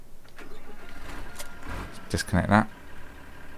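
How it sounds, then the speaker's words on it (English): A tractor engine in Farming Simulator 2013 rumbles at idle, then revs and rattles louder briefly, while someone talks over it. "So, let's take this tractor."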